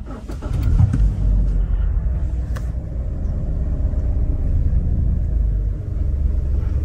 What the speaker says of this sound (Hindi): तो ये पुश स्टार्ट है, तो इसका लेफ्ट साइड पे बटन दिया गया है, तो इसको स्टार्ट करते हैं।